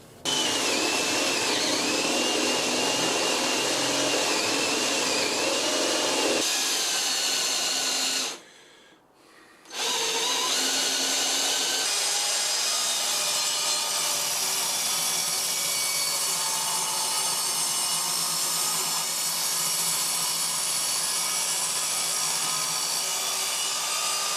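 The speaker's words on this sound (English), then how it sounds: "we've sanded her down, so we give her a thoroughly good sanding." Loud, continuous whirring of a power sander grinding against a wooden guitar body made from a 2x4, briefly cutting out midway before resuming steadily.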